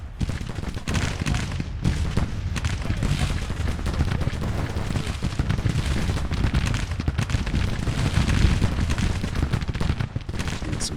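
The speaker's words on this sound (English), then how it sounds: "Looks like they're taking some counter battery fire." Artillery battery firing and taking counter-battery fire in the Civil War strategy game Grand Tactician: The Civil War, a dense, continuous barrage of loud overlapping booms and rumbling blasts with no pauses.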